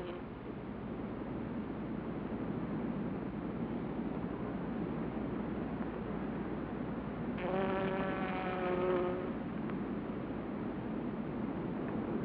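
A bumblebee in the Maine woods and meadows buzzes briefly and close by, a droning hum rising over steady outdoor background noise for a couple of seconds before fading.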